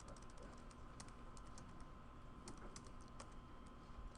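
Someone types a line of Java code on a computer keyboard, giving steady clusters of light key clicks over a constant background hiss, close and fairly quiet, with no talking.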